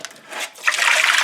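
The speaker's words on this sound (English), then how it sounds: "Just warm water to make sure I wash it about 2-3 times before it goes in the cooking pot." Cocoyam being washed in warm water, a soft splashing and swirling of liquid that swells into a steady, close rush of water in the second half, with no talk.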